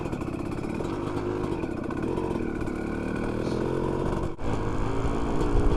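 A dirt bike engine drones steadily and loud while the rider shifts gears, its tone holding fairly even with a brief dip and cut near the end before the engine picks back up.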